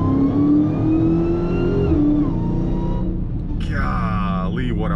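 A 1100 hp Dodge Charger Redeye Widebody on drag radials revs loudly nearby, engine pitch climbing in sweeps then dropping, with a second higher rising rev near the end; a voice is faintly present.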